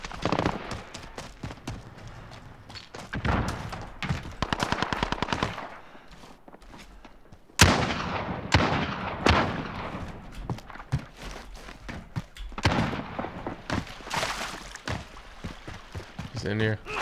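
Bursts of automatic gunfire and sharp single shots from Call of Duty: Modern Warfare multiplayer, loud and close, come in clusters with footsteps and brief pauses between volleys, and a player talks over the action.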